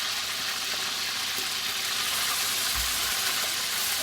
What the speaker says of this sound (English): I'm just stirring in the fish in the pot now.